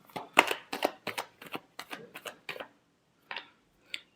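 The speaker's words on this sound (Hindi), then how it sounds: "last shuffle" Tarot cards are shuffled close up in quiet surroundings: a quick series of crisp, papery riffles and taps, then a pause and two last flicks.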